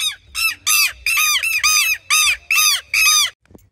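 About eight loud, harsh squawks from aggressive birds at the Quebrada de las Señoritas in Salta come in a steady, closely spaced series, nearby and with no talking.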